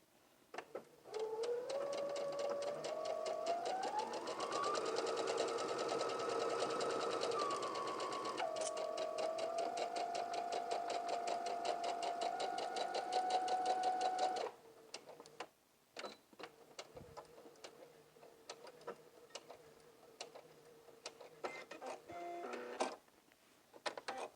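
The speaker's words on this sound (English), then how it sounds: "we're going to go to the sewing machine and we're going to sew in a stitch" A sewing machine attaches pockets to a skirt with a quarter-inch seam, whirring close and loud for about thirteen seconds with shifts in motor speed, then giving way to light clicks and handling sounds.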